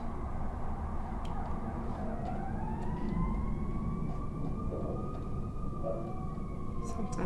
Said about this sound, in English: It's the Chicago normal day with all the sirens.